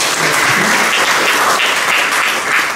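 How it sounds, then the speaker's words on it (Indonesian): Loud, dense applause from an audience at a send-off ceremony for martial arts athletes heading to a national sports week keeps going without a break for the whole stretch. "Tepuk tangan buat para atlet ini"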